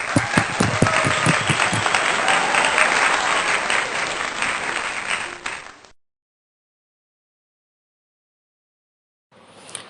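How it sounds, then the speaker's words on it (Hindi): Congregation at a Sunday church worship service applauds loudly for about six seconds, dense clapping that then cuts to silence before a brief return of sound at the end. "तालियां।"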